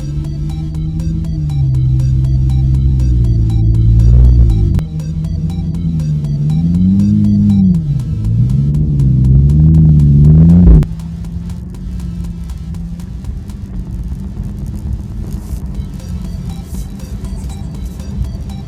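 A Porsche on studded tyres driving on snow at a winter driving camp: a loud, close engine revs and wavers up and down for several seconds, then cuts to a lower, steadier hum.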